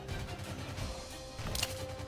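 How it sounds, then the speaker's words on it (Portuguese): A Barrett sniper rifle fires once in the Rules of Survival shooter game, a sharp crash-like report cutting through steady game background noise. "MK Barret, tiro."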